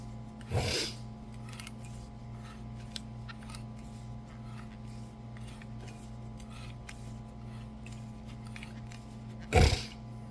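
A pipe cutter turning around copper plumbing pipe gives two brief rough scraping rasps, one near the start and one near the end, over a steady low hum.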